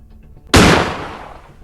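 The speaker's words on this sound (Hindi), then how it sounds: "हेमो उठाया एंड अब ग्रैनी को से मारते हैं" One loud, sudden gunshot in the Granny horror video game as the player shoots Granny, a sharp blast that fades into a long, decaying echo.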